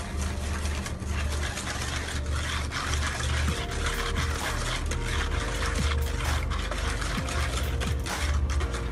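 Eggs and sugar are beaten together for a chocolate fondant batter, a continuous mechanical whirring and rattling with wet sloshing that stays loud and steady throughout, with no talking.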